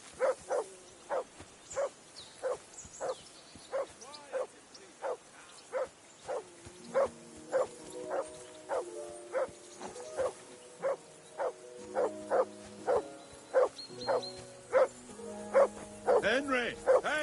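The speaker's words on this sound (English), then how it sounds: "call off that mutt of yours" A dog barking in Kingdom Come: Deliverance 2, with a long series of evenly spaced sharp barks, mid-distance and loud, while background music and voices run underneath.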